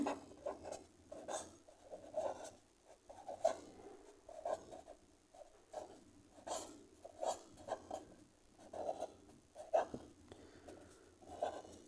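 Pen or marker strokes writing a statistics formula by hand, a steady series of short scratchy bursts repeating every second or so, close and fairly quiet, with no talking.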